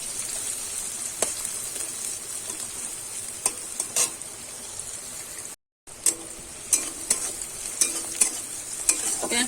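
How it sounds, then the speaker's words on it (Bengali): Chopped onion fries in hot oil for a chicken tiffin snack, a steady close sizzle broken by sharp scraping clicks of stirring, with one brief silent gap near the middle. "এবারে পেঁয়াজ কুচিটা দিয়ে দেব। দিয়ে একটু আমি নেড়ে চেড়ে ভেজে নেব।"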